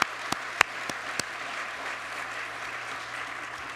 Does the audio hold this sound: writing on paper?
no